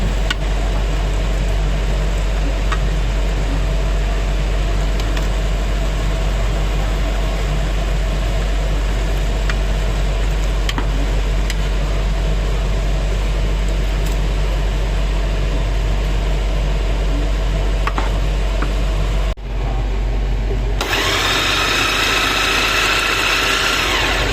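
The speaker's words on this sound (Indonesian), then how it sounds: "Jadi aku mau blenderin dia sedikit aja saja gitu" An electric blender blends food for a soup, giving a steady, loud motor whir that runs unbroken for about twenty seconds before cutting off, followed by a short burst of different clattering noise.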